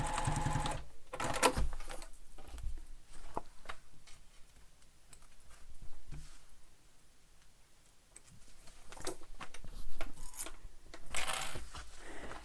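A sewing machine runs stitches along the basted side seam of a fabric backpack, in several close, steady bursts separated by brief pauses and quieter handling.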